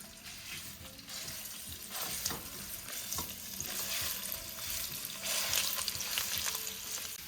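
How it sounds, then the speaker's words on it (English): Italian sausage sizzles steadily in a hot pan while a utensil scrapes and breaks it apart, with irregular clicks and stirring scrapes over a continuous close frying hiss. "We're gonna take our Italian sausage and just dump it in here. And I'm just gonna start breaking it apart."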